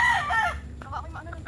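A chicken, a fine breed, gives a loud, high cackle up close, followed by several short, softer clucks.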